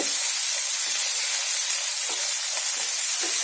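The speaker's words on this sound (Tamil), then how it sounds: "இப்போ நம்ம கட் பண்ணி வச்சிருக்கிற பலாக்கொட்டையை இதில் போட்டுக்கலாம் போட்டு கொஞ்ச நேரம் வறுக்கலாம் எண்ணெயிலேயே" Cut jackfruit seeds fry in hot oil in a pan, producing a loud, dense, unbroken sizzle with a hissy texture that holds steady throughout, with no voices.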